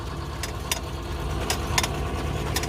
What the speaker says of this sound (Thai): การปลูกของเพื่อนก็จะมี รถไถนะครับ แล้วก็ ติดพ่วงด้วย เครื่องปลูกนะครับ